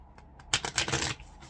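Tarot cards being shuffled close up, a quick riffling burst of papery flutter lasting about half a second, loud and crisp against a quiet room.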